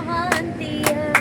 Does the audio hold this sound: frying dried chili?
no